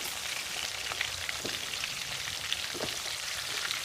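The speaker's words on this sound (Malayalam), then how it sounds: "മീഡിയം ഫ്ലെയിമിൽ വെച്ച് ഫ്രൈ ചെയ്തെടുത്താൽ മതി ഇടയ്ക്കിടയ്ക്കൊന്ന് തിരിച്ചിട്ട് കൊടുക്കണം" Chicken pieces frying over a medium flame for Malabar biryani make a dense, even, rain-like sizzle with small pops, close and steady throughout, with no talking.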